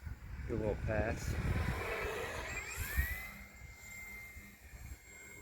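A small engine whines and rises in pitch as a large Cub model airplane passes, while a person talks over the buzzing.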